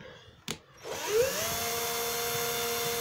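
After a sharp click, a power drill spins up and drives a screw into scrap wood, its whirring motor rising in pitch and then holding a steady, close whine.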